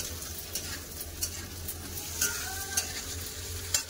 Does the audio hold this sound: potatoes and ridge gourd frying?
yes